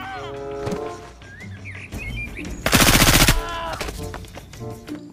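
A toy gun fires a rapid, loud mechanical rattling burst lasting under a second, amid chirpy electronic toy sounds and a few scattered beeps.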